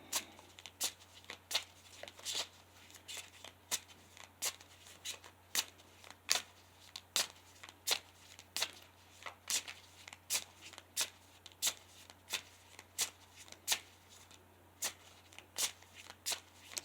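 Tarot cards are shuffled over and over in a steady rhythm of quick riffling snaps, close and clear, with a faint hum underneath.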